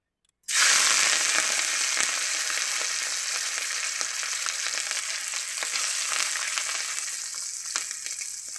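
Prawns frying in hot oil in a wok, a loud, steady crackling sizzle that bursts in suddenly and holds dense and close for the full length, with no talking.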